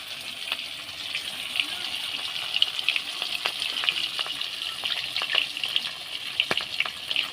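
Magur catfish fries in hot oil in a kadai, giving a continuous close sizzle dotted with sharp crackles and pops throughout, with no talk over it.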